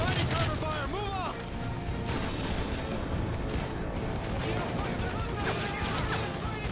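Dense gunfire and explosions from the Call of Duty MW3 campaign fill the scene continuously, with bursts and booms overlapping throughout as voices shout over the battle.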